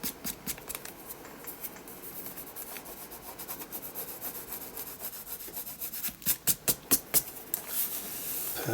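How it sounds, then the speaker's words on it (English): Excess rubbery adhesive is rubbed off a paper art journal page with soft, close scratchy strokes that quicken into a rhythmic series of rubs near the end. "if I get any on, just rub it, and it just goes into tiny little like rubber balls"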